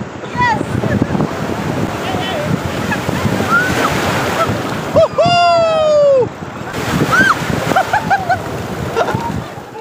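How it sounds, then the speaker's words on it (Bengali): Rough surf at Puri beach on the Bay of Bengal crashes in a continuous roar, overlaid by shrill whistle sweeps and nearby voices of people on the shore. "দেখতে থাকুন এই উত্তাল পুরীর সমুদ্র।"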